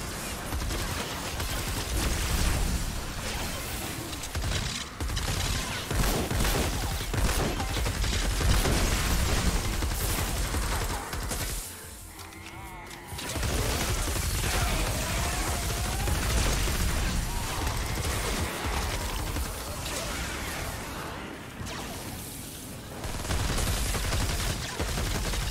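Sustained gunfire in Fortnite: Save the World, dense continuous shooting and bursts filling most of the stretch, loud and close, with a short lull in the middle before firing resumes.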